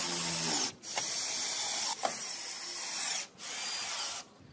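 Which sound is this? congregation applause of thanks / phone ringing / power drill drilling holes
power drill drilling holes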